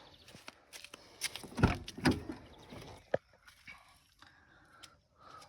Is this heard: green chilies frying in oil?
no